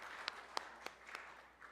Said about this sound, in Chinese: 我们再一次的拍手来欢迎他们